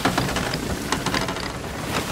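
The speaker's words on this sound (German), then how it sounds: "jetzt regnet es schon wieder hier, ey." Steady rain in a storm in the pirate video game Sea of Thieves, a dense, even hiss of drops with scattered brighter patters, close and continuous with no voices.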